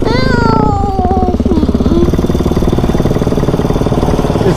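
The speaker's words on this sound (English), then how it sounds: "Is the bike still running?" A child's small motorcycle engine running close by, a steady buzzing idle pulse throughout, with a rising whistle-like sound near the start.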